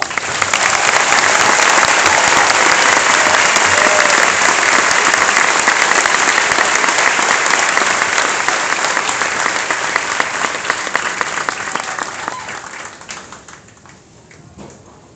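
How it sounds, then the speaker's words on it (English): A large crowd at an army family day at Fort Jackson applauds soldiers, a loud, dense, sustained roar of clapping that holds steady for a long stretch before tapering off to scattered claps. "please give these soldiers a round of applause"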